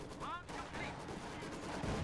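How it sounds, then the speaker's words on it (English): Video game Stuka dive-bomber strike, with a rapid series of explosive gunfire-like blasts and rumbling booms at steady loudness, plus a short descending whine early on. "Very nice Stuka strike."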